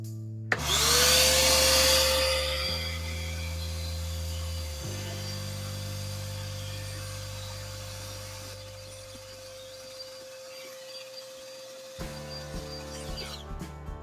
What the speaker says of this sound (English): The particular vacuum I'll be using today is by Rigid, and it's a great commercial style wet and dry vac that has a really long hose.